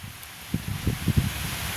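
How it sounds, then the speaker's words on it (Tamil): Strong cold wind sweeps across a village beside a pond, a steady hiss with gusts buffeting the microphone in several low thumps, close and fairly loud. "சும்மா பேய் காற்று அடிக்குது."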